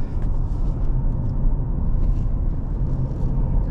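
A 2016 Lincoln MKZ with the 2.0L engine, 22k miles, cruising on the road: a steady, loud low rumble of engine and road noise holds without a break, with no voices.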